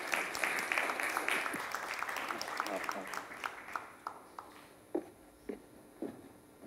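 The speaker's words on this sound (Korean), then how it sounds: "박수로 이사님을 맞이해 주시길 바라겠습니다." An audience applauds to welcome a guest speaker at a public education talk, the clapping loud and dense at first, then thinning out into a few scattered, isolated claps before fading.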